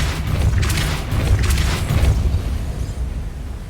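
A Depulso force spell cast in Hogwarts Legacy, a deep rumbling boom with a whooshing burst that swells and fades over a few seconds, heard alone.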